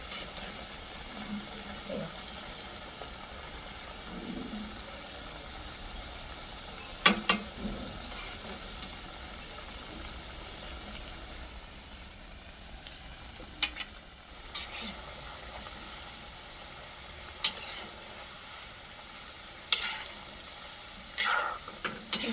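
Aloo snacks deep frying in hot oil, a steady soft sizzle throughout with occasional sharp clinks and scrapes of a utensil stirring the pan.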